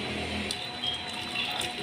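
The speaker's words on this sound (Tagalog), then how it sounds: "Lagyan na natin ng mainit na tubig." Hot water is poured steadily from a kettle into a cooking pot for a Filipino vegetable dish, a continuous close hiss and gurgle running for a couple of seconds with no talk.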